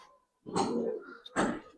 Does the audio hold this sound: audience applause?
no